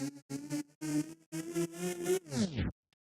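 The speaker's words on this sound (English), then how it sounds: "Ooh. Tape stop. Tape stop." A musical phrase with a tape stop effect made with delay plays in choppy bursts, then the pitch sags downward and slows to a halt, ending abruptly in silence.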